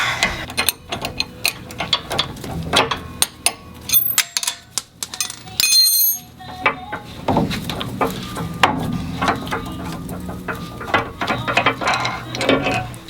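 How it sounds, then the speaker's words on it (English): Sway bar quick disconnect bolts on a TeraFlex front sway bar held with an 18mm wrench and 6mm hex key, giving a busy run of close metallic ratcheting clicks and clanks with a brief pause midway. "we're going to hold it with our 18mm wrench and our 6mm hex key"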